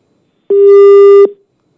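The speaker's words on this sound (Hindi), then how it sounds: "रमेश जी से हम दोबारा संपर्क लगाने की कोशिश करेंगे।" A telephone busy tone sounds on the line after a phone call into a Hindi TV news discussion drops: one steady, loud beep lasting under a second, heard alone.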